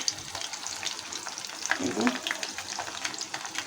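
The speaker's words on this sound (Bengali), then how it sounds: "ওই যে কমে ভাজতেছি" Food frying in a pan over low heat, a continuous soft sizzle with faint stirring scrapes, close by, under a bit of background talk.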